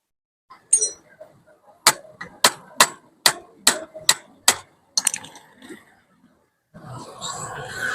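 Sharp taps from the rubber back of a cutter on a bicycle bottom bracket, about eight evenly spaced knocks close by, followed by quieter handling noise and a faint rustle.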